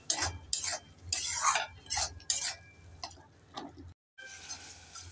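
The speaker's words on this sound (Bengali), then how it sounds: "একটু নেড়ে চেড়ে দিয়ে দেব" A spoon stirs spice masala with a splash of water in a pan, making close bursts of wet scraping and clinking in an irregular rhythm, with a brief silent gap near the end before a quieter simmering hiss.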